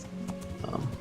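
Brief horse hoof clops and a short whinny in the video game Kingdom Come: Deliverance, moderately loud, over a low background hum.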